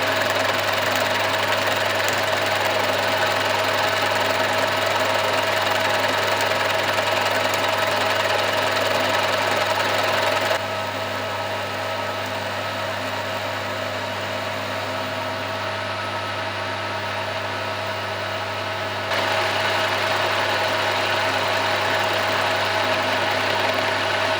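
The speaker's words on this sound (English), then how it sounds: "I'm going to mill out the shoulders on there so it'll drop down and we can get hold of the bases of the vise jaws" A milling machine cuts the shoulders of steel vise jaws, a loud continuous mechanical drone and hum with steady vibration, the level dropping slightly partway through and then returning.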